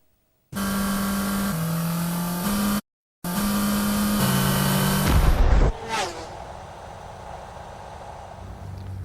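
Subaru Impreza UK 300, a limited-edition sporty WRX variant, with its engine running loud and close in steady revving bursts, briefly cutting out, then climbing to a higher rev before dropping to a lower idle-like drone.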